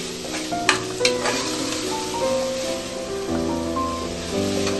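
Spiced masala for chicken biryani, with coriander and mint leaves, sizzles steadily in a hot pan while a spoon stirs and scrapes through it, with a few sharper clinks early on; close and continuous, no voices.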